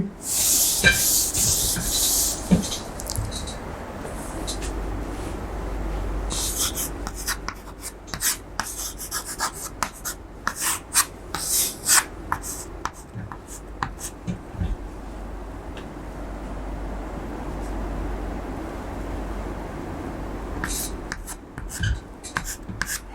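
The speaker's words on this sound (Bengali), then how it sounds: "এই যে অতঃপর প্রশ্নটা এখানে আমি লিখছি" Chalk or a pen scratches and rubs while a maths question is written out in a class, in irregular bursts of short strokes with a low room hum behind them.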